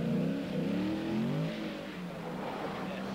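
A rally car on a 1983 rally stage, moving from loose ground toward tarmac, its engine revving hard and steadily with rising and falling pitch, close and loud.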